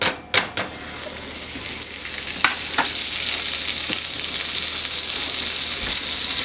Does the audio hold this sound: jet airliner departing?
no